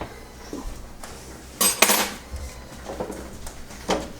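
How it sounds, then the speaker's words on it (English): Banana bread loaves turned out of metal loaf pans onto a cooling rack in a home kitchen, a few close metallic clanks and knocks with one loud rattling bang midway, no talking. "I'm gonna dump them onto the cooling rack, so let me show you that."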